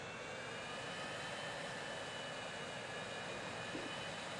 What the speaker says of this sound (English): Shortest plane ride ever.